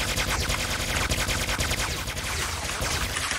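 Rapid automatic gunfire crackles through a video game shootout, a continuous dense stream of loud shots with no pauses across the whole stretch.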